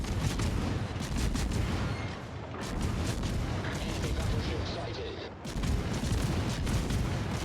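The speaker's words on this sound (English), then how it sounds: "Try to shoot all my guns." British cruiser Edgar fires its ship guns in World of Warships in dense, repeated rolling booms, with near-constant battle noise and a short lull midway.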